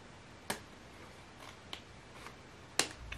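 Scissors snip through craft material for a dollar-store Christmas ornament in a few sharp, isolated cuts spaced irregularly over a quiet background, close up.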